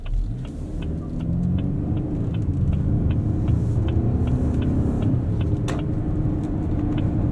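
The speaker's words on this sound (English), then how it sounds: "This 2-liter turbo has pretty good low-down torque." A 2024 Lincoln Nautilus Black Label with a 2-liter turbo engine cruising, steady low engine and road rumble heard from inside the cabin, with regular faint ticks over the drone.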